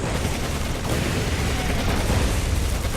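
Tank artillery in the World War II game Codename: Panzer rumbles with dense, continuous booming gunfire and explosions, loud and unbroken for the few seconds it lasts.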